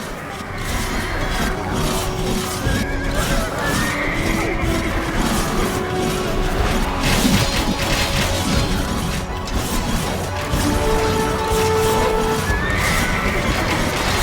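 Horses whinny and hooves pound amid a loud battle din in Age of Empires II: Definitive Edition, with clashes and crashes running continuously throughout.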